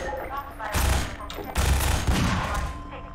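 Video game gunfire from a favorite weapon rattles off in a few dense bursts, loud and close, with game sounds layered around them.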